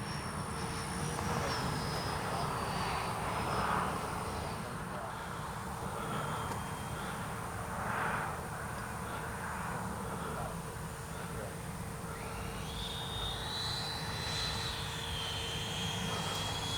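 Freewing 80mm T-33 Shooting Star RC jet coming in to land on grass with landing flaps down, a steady whining ducted-fan drone holding level, with a thin high whistle rising near the end.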